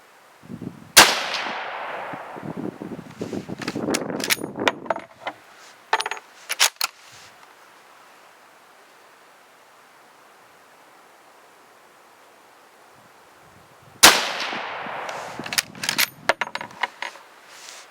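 Rifle shots from a 7.62x54R firing 203-grain softpoint hand loads at an outdoor range, two loud sharp reports about thirteen seconds apart, each followed by a long rolling echo and clatter, no talk.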